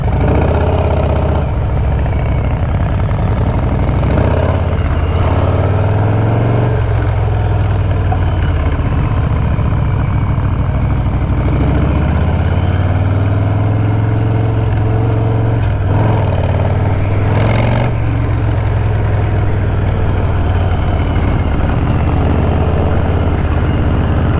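Royal Enfield Interceptor 650 motorcycle engine idling loudly up close with several throttle blips rising and falling in pitch, a constant low rumble underneath and no talking.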